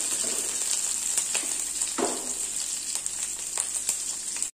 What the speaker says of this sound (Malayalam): ഒരു 2-3 മിനിറ്റ് ഒന്ന് ലോ ഫ്ലെയിമിലൊന്ന് ഇളക്കി കൊടുത്താൽ മതി.